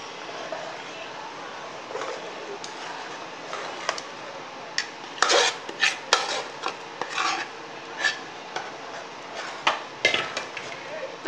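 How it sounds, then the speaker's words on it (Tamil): Ragi flour is stirred into water in a pot for ragi koozh, making a series of close, uneven scraping and rasping strokes that grow more frequent in the second half, with a voice speaking at times. "மாவை ஊற்றி இப்படி கிண்டுங்க."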